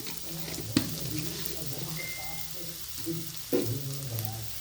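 Garlic cloves and a little cumin sauté in a pan for flax seed chutney, giving a soft, steady sizzle with two sharp stirring clinks against the pan.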